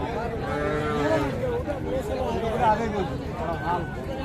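A large dairy cow at a cattle market, low moos and lowing mixed with steady crowd chatter and people talking nearby.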